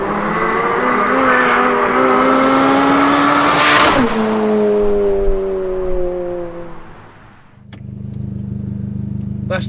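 A tuned 412 bhp front-wheel-drive VW Lupo GTI 1.8T engine revs hard and climbs in pitch through the gears, loud and close, then drops away and settles into a low steady rumble.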